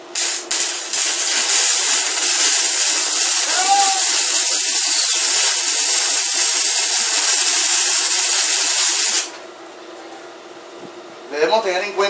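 Arc welding with a 7018 electrode, fusing a pipe to a part, gives a steady loud crackling hiss for about nine seconds before cutting off, followed by a brief voice.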